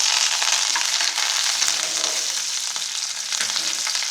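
Dried red chillies and curry leaves fry in hot oil in a pan, a steady loud crackling sizzle that runs unbroken and close throughout, with faint stirring scrapes and no voices.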